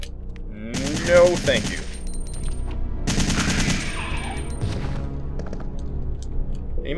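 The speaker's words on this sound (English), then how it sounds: "it really pulls its weight and pushes out those bullets" Assault rifle fire in Resident Evil 3, two loud bursts of rapid shots, each lasting about a second, with a brief spoken line and quieter game sounds between them.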